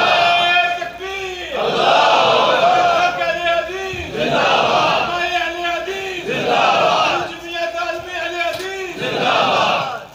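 A large crowd at a Khatam-e-Nabuwat religious conference in Gujrat chants slogans in loud, roaring waves, with rhythmic bursts of massed shouting rising and falling continuously through the clip.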